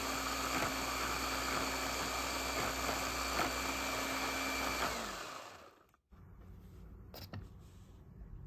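Blender pureeing a clementine, a steady loud motor whine that winds down and stops, followed by a few faint clicks and handling noises.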